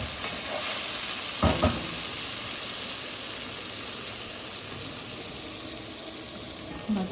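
A spice tempering sizzles steadily in hot oil for mixed vegetable dal with potato and tomato, a continuous close crackle broken by a couple of sharp stirring scrapes, with no talk.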